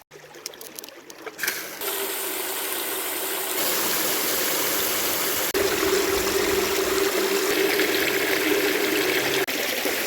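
A battery-powered pump drives a high banker used for gold prospecting in ancient gravel, with a steady engine hum under continuous loud rushing, trickling water that swells after a short start and runs evenly to the end.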